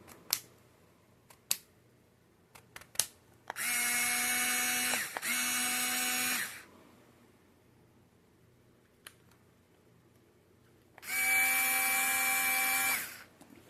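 A Hyper Tough 4-volt lithium-ion cordless rotating screwdriver spins up in two steady motor whines, the first briefly interrupted, then a third after a pause, with a few clicks and handling knocks between runs.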